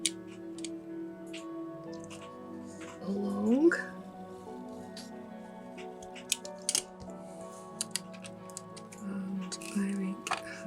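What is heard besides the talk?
cutting perspex sheet for miniature house windows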